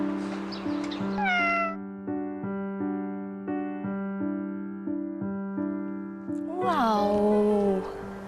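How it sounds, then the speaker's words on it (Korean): A small kitten meows several times, high and plaintive, over a steady droning tone, with a longer louder cry near the end. "여기에 제가 고양이가, 아기 고양이가 있다는 소문을 들었거든요"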